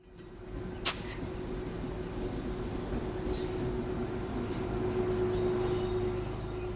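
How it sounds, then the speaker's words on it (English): The Ghan passenger train travels through the Australian outback with a steady, loud rolling rumble and a constant low hum, broken by one sharp click early on. "we'll travel by train on the Ghan"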